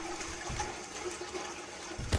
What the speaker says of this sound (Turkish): Ula o kimdir sifoni çekti?